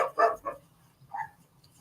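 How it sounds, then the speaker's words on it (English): A dog barks a few times at moderate distance, a quick cluster of barks followed by one more after a short pause. "Right, there's dogs over there."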